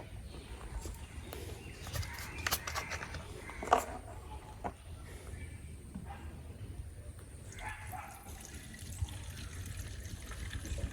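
Petrol pours steadily into the fuel tank of a STIHL FS 3001 brush cutter with a soft, continuous gurgling rush, quiet and close, with a faint dog bark in the background.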